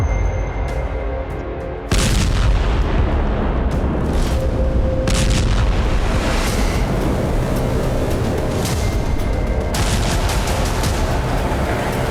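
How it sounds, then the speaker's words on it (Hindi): A sudden loud, sustained roar of blast and rumble kicks in after a quieter stretch and continues densely, like a large explosion heard nearby. "इतना बड़ा धमाका हुआ कि 30 किलोमीटर तक धरती कांप उठी"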